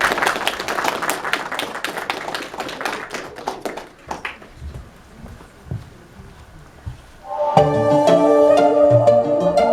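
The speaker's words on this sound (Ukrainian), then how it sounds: "Конечно же, под ваши аплодисменты, друзья." An audience claps at a folk dance performance. The dense applause lasts about four seconds, then fades to scattered claps and quiet before music starts.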